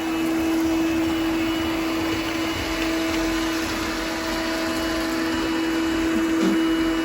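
A Coral One robot vacuum runs continuously over Froot Loops cereal with a steady motor whine and brushy hum, close by and fairly loud, with no voices.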